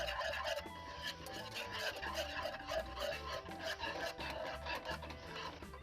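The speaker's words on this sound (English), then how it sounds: "Still stirring it." Sugar-free ice cream mixture with sugar and vanilla being stirred in a bowl, giving a steady rasping, scraping rub that repeats continuously at close range.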